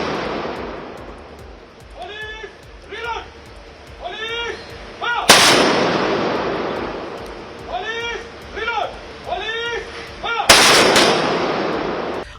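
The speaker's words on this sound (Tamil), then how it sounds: "காவல்துறையினரின் துப்பாக்கி குண்டுகள் முழங்க EVKS இளங்கோவனின் உடலுக்கு அரசு மரியாதை வழங்க" Police rifle volleys fired as a state funeral honour, several loud sharp salvos cracking out in sequence with crowd and voices murmuring beneath and between the shots.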